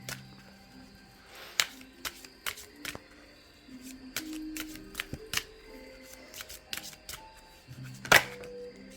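Oracle cards from the Gumiho deck "La Réponse est là" are shuffled by hand in irregular clicks and soft slaps, close and moderately quiet, with a louder card tap near the end.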